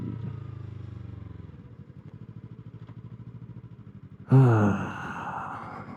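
A Kawasaki ZX-6R sport motorcycle engine idles with a rapid, pulsing low throb, then a louder burst of sound joins abruptly near the end.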